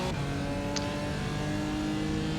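BMW GT4 race car accelerating at Sebring, a loud continuous engine roar with steady harmonic tones holding throughout, close and unbroken.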